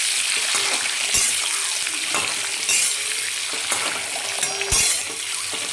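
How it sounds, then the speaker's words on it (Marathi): Masala frying in a pan with a pinch of salt for dhaba-style egg curry, a continuous bright sizzle broken by several sharp stirring clacks and scrapes of a spoon against the pan. "आणि चिमटभर मीठ टाकायचं आणि आपल्याला हे छान फ्राय करून घ्यायचं"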